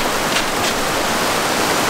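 Heavy pouring rain drumming on a Ram ProMaster van, a dense, loud, steady hiss of water on the roof with no pauses.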